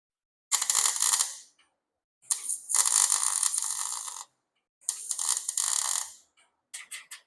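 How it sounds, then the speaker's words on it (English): Welding a tab onto the grille of a 1964 Ford Falcon: four separate bursts of loud, crackling arc noise, each one to two seconds long, with short silent gaps between them. No one speaks. "Just need to get some welds on it real quick."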